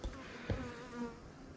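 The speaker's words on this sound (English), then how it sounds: "There's still a few straggler bees in the nuke box" A few straggler bees buzzing around a beehive nuc box, a faint, wavering hum lasting under two seconds, with no voices.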